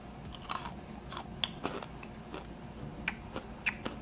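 Spicy freeze-dried candy being bitten and crunched, a series of crisp, close crunches and snaps spaced irregularly over a few seconds, with no talking.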